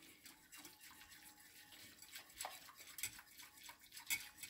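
Jell-O mixture stirred in a pot, a quiet, steady scraping with light clinks of the spoon against the metal rim. A few sharper taps stand out near the end.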